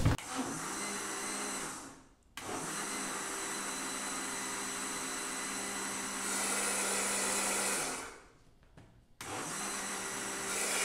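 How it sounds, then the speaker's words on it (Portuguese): A blender whirs steadily at close range mixing pancake batter with egg, stopping briefly twice and starting again, its motor pitch shifting slightly as it runs. "E agora bater no liquidificador."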